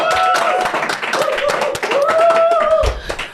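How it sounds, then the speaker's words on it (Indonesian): Audience clapping breaks out at an Indonesian stand-up comedy show, scattered sharp hand claps under the comedian's ongoing tonal talking and laughter. "tepuk tangan teman-teman"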